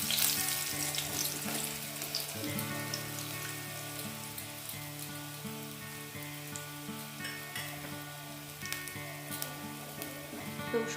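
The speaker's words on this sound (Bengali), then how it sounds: "রসুনটাকে একটু ভালো করে ভাজা করতে হবে।" Garlic frying in oil for a pomfret posto sorshe dish, a soft continuous sizzle with faint crackles running alone beneath a steady tonal background hum.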